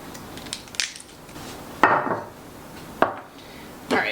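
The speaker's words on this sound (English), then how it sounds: "And then I'm just going to break it into pieces" Food snapped into pieces by hand in a kitchen, giving three sharp cracks spaced about a second apart, each with a short crumbly tail, over quiet room tone.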